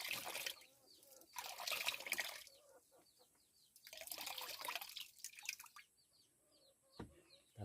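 Coconut milk strained through a cloth for homemade virgin coconut oil, giving bursts of wet dripping and trickling liquid in separate spells, fairly close, with quieter pauses between and a faint bird call in the background.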